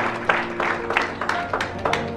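A church audience claps during a sermon, with a few short bursts of applause in a room and some voices murmuring underneath.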